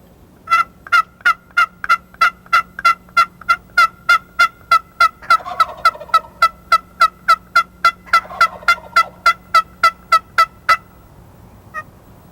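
A wild turkey gobbler answers calling with a long series of sharp, evenly spaced gobbles, loud and clear outdoors, repeating about every third of a second for roughly ten seconds before falling silent.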